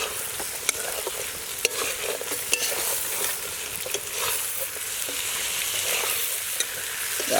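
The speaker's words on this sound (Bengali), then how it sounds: "আমাদের মিঠুন দা মাংসগুলো দিয়ে দিচ্ছে" Meat sizzles and fries in a pan at a night-time outdoor picnic, with steady crackling, stirring scrapes and occasional sharp clinks throughout.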